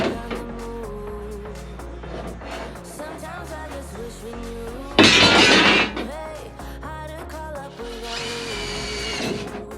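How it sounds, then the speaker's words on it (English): A power drill bores holes through a camper van wall during a build, two short loud bursts of drilling stand out over busy clattering background sound, the first sharp and close, the second longer and fainter. "So I'm going to drill 2 holes."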